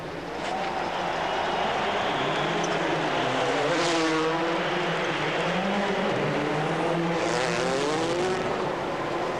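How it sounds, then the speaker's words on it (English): Rally car engines roar and echo around a football stadium arena during a 2007 Rally Portugal special stage, a loud continuous wash of revving and gear-shifting engine tones with reverberant swells that rise and fall. "Lovely sound of these engines echoing around this arena."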